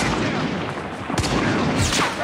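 Gunfire in a first-person shooter played on a high-end phone, a couple of sharp sudden shots cutting through a dense noisy game soundscape.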